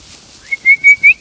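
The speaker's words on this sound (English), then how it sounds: "Let's make some whistling noises like I meant to do that" While herding cows, three short, high whistled notes in quick succession follow a brief rising slide, loud and close.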